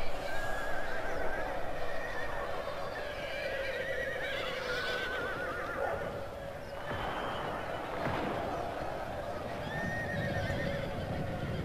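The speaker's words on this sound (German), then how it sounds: "Ui, die schicken noch mehr Pferde." Horses neighing in Medieval 2 Total War, several whinnies rising over a dense battlefield bed of hoof clatter and rumble, loud and continuous across the scene.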